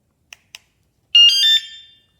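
A Wsdcam 113dB wireless bike alarm gives two quick faint chirps, then a brief silence, then one loud bright electronic beep that holds for about half a second and fades out.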